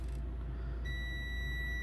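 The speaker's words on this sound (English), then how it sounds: "we got good continuity. Just can't get a good grip here, but it's beeping" A multimeter in continuity mode, tested on a Game Boy Color ribbon cable, gives a steady high beep that starts partway through and holds over a low background hum.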